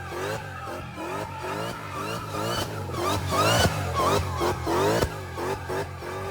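Engine-swapped Nissan 240SX sliding around, its tires squealing in repeated rising skids over a revving engine, close and loud, with surges of power between slides.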